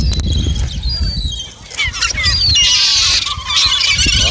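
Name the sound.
seagulls calling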